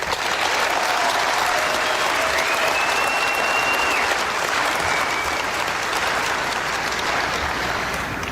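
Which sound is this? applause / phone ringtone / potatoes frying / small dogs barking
applause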